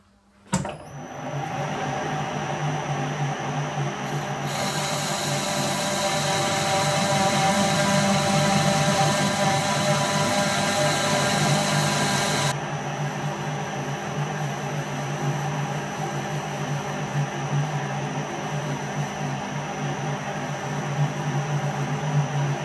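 A Victor brake lathe cuts a drum brake in a workshop, giving off a continuous whirring machine whine with a harsher, louder cutting stretch in the middle before it eases back to a steady hum.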